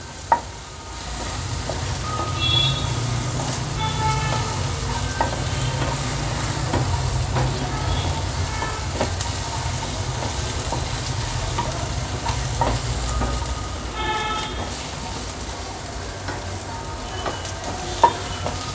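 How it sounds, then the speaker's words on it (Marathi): Onions fry in oil with turmeric, masala and ginger-garlic paste, a continuous close sizzle broken by scraping stir strokes and occasional clinks of a spoon against the pan. "आता हळद, मसाला आणि आलं लसूण पेस्ट देखील या कांद्यात छान एकजीव करून घ्यायची आपल्याला।"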